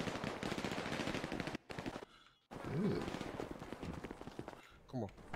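Gunfire rings out in a GTA roleplay game scene, bursts of rapid shots mixed under constant excited talk from several players.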